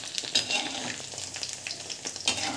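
Gulab jamun balls cook in hot oil, giving a steady close bubbling sizzle with scattered sharper pops and crackles throughout, no voices.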